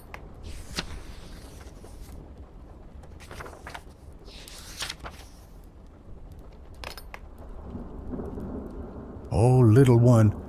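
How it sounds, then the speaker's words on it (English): Steady rain with repeated rumbling thunderclaps raging outside during a thunderstorm, a continuous wash of rainfall under scattered booming strikes, ending in a louder sustained tonal swell. "the storm still rages beyond these walls"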